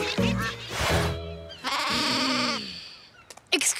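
Cartoon sheep bleating produced by a device's sheep-lure mode, a few loud, drawn-out bleats in close succession, ending with a short squeaky burst.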